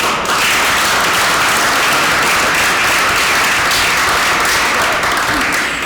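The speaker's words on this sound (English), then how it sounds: "So just give Michael a round of applause." Steady, loud applause fills a city council special committee meeting room in North Canton as people honour Michael for an award, dense clapping continuing throughout without a break.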